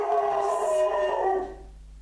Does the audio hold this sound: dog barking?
yes